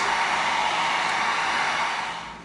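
Heat gun heat-sealing EVA foam for a medieval mace, a steady loud rushing blower hiss that holds constant and then fades slightly at the end.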